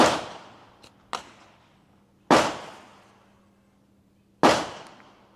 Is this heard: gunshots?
yes